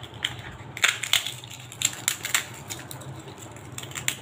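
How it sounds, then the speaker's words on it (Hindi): Crispy papdi being crushed by hand over Delhi-style dahi bhalla topped with tamarind and jaggery chutney, giving a run of sharp, close crackles and snaps in irregular bursts with no talking. "आपको इसकी आवाज़ से ही क्रिस्पीनेस का अंदाज़ा हो रहा होगा कि ये कितनी क्रिस्पी है।"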